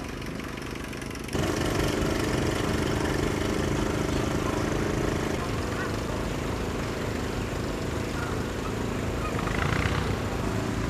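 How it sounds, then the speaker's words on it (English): A Holt 5-ton armoured World War I artillery tractor engine gives a steady, heavy rumble throughout at a tractor show, loud and continuous, with a slight step up in level early on and no speech over it. "next we've got a Holt 5-ton artillery tractor with full armour plating for use in World War I."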